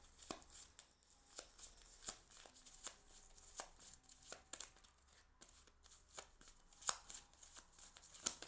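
A deck of tarot cards is shuffled close by in a quiet room, a run of crisp riffling flicks and soft snaps repeating irregularly, fairly faint and with no talk over it.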